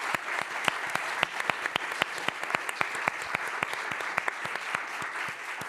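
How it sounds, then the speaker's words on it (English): Sustained audience applause for the panellists at a talk on concussion and safety in sport, a dense crowd of clapping with sharp individual claps standing out near the microphone, steady throughout with no voices. "Can we each give our panellists a round of applause"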